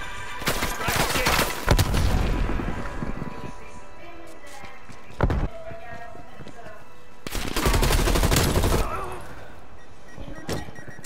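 Sentry turret gunfire in Call of Duty: Black Ops Cold War, with two loud, sustained rattling bursts separated by a quieter stretch of scattered single shots and background game noise.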